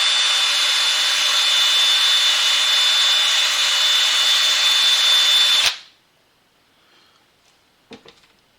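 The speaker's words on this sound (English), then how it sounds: "Wire brush on a power tool" A wire brush spins on a power tool while cleaning a Welch CRVpro2 pump during a rebuild, a loud steady whirring grind for several seconds, then it cuts off, followed by near silence and a faint knock.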